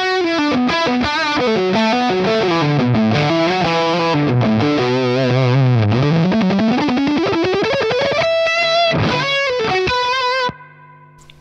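Mesa Boogie Road King amp with a high-gain electric guitar tone plays a loud, saturated run of notes that rises and falls, ends on held notes and a final chord, then cuts to quiet.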